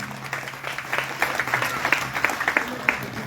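A church congregation applauds, giving a dense, steady patter of many hands clapping at close range, with a few voices mixed in.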